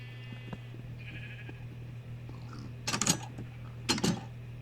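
Two short sheep bleats sound in Minecraft, each a loud nasal burst about a second apart, heard over a constant low hum and faint background tones, with no talking.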